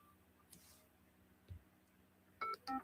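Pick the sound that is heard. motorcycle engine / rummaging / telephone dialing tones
telephone dialing tones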